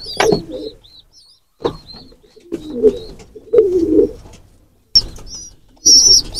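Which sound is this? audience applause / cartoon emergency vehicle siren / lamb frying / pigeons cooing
pigeons cooing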